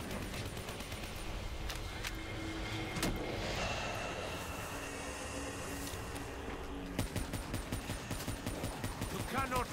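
A weapon in Black Ops 3 Zombies fires in fast, rapid bursts that grow sharp and dense near the end, layered over busy game effects and a low rumble.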